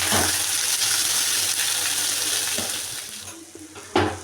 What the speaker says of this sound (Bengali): এই লাউয়ের খোসাগুলো ভেজে নেব